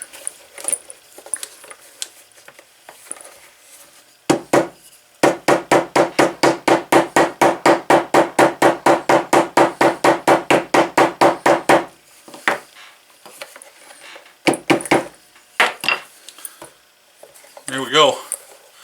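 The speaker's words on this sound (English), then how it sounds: "hammer whenever I'm doing these old holsters." A vintage hammer taps a leather 1936 Luger holster, first a few scattered knocks, then a long quick, even run of about thirty taps, followed by more sporadic hits.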